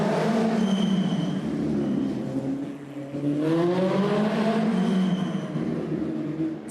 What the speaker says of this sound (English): the Tom Iman sponsors needed Volkswagen powered race car